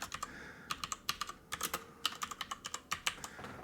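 Quick bursts of typing on a computer keyboard, with irregular clusters of crisp key clicks and short pauses, close and fairly quiet, with no talking.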